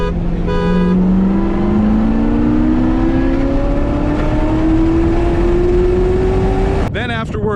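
A 2016 Lamborghini Huracan and a 2019 Corvette ZR1 race side by side under hard acceleration, engines droning loud and close with a steadily rising pitch, then a sharp change near the end as a gear shifts.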